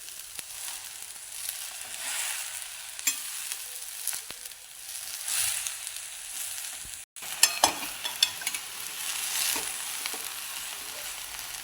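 Chickpea greens, cooked village-style, sizzle in a pan while being stirred and mixed, a continuous frying hiss with occasional scraping and a brief cutout midway.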